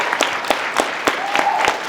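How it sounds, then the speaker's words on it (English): An audience at a Teen Titans convention panel at LVL Up Expo applauds, with distinct claps popping out in an uneven rhythm over a softer wash of clapping and murmur. "let's give them a round of applause, please"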